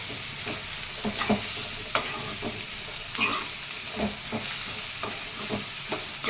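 Fish going into a hot pan of lightly fried onions, village style, with a steady oily sizzle and repeated scraping stirs and clinks of a spatula, fairly close and with no voices.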